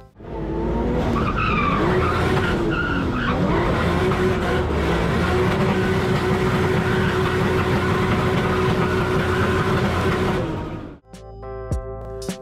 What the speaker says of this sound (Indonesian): Akbar Rais menggunakan BMW untuk melakukan drifting.